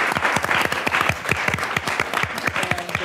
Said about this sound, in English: a big applause for the actors